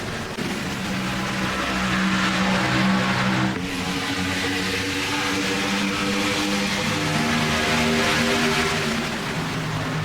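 A dense pack of NASCAR stock cars roars together at Talladega in the iRacing simulator, a loud continuous engine drone that shifts pitch midway as the field accelerates from the green flag.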